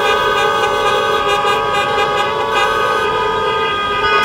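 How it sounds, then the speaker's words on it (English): Car horns honk steadily and loudly at an outdoor drive-in graduation ceremony in 2020, several horns sounding at once in a sustained, overlapping blare with no talk over them. "Stop honking!"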